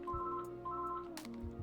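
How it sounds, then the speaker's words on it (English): A phone rings in steady repeated electronic tones, fairly faint behind other room sounds, during a Minecraft survival multiplayer session. "That's the phone ringing."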